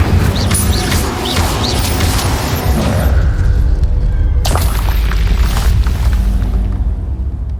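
A fire spell cast in a Harry Potter video game bursts out as a loud, dense roar and rumble that sweeps through the scene, with a sharp crash partway through and game effects layered on top.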